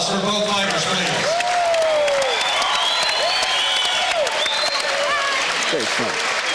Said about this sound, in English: how about a nice round of applause for both fighters, please?